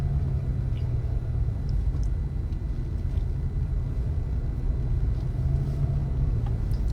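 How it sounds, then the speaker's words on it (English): Steady low rumble of a car cruising on a highway, a continuous road and engine drone with no breaks, heard from inside the vehicle. "Just out here on the highway driving"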